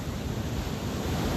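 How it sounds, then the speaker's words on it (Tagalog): Strong sea waves surge and crash continuously, with no rain falling, producing a steady, loud broadband roar dominated by low rumbling surf and some wind buffeting the microphone throughout. "Wala pang ulan pero malakas na yung tayo ng alon."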